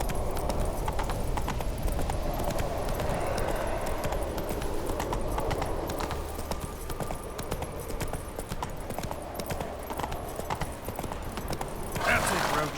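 A horse gallops in The Witcher 3, with steady clip-clop hoofbeats running throughout under game ambience and a brief whinny, while a rider urges it on.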